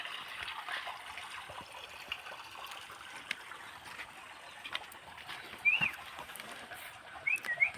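A hot water spring pond at a shrine with a river below, its water trickling softly and steadily, with faint bird calls and a few brief chirps over the gentle flow.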